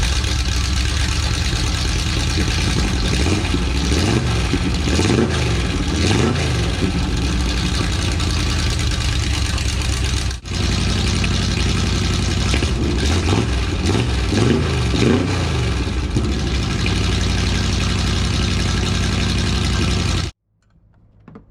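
A Lamborghini Countach monster truck engine running steadily, a loud close idle with a couple of rising revs, continuing for about twenty seconds before cutting off at the end.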